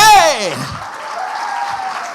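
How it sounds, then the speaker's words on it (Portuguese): Church congregation applauding during a worship service, a broad wash of clapping that follows a voice at the start and carries on steadily to the end. "Queria que vocês aplaudissem a Deus pela vida do pastor Henrique"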